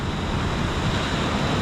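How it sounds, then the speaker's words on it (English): Ocean swell of about a metre breaks and washes over coastal rocks, a steady, loud, close roar of churning white water filling the whole stretch with no voices. "Here comes another wave, which will probably create a bit more white water up over the rocks."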